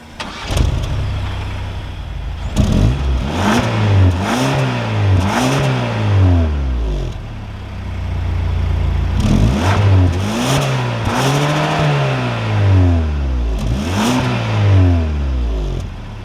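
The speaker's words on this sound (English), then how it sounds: "keeping my foot on the brake, we can go ahead and fire it up" A 2022 Hyundai Sonata N Line with the 2.5T engine starts with a loud rising revving flare, then settles into an idle, with a second swell of revs midway and a few clicks, and no talking.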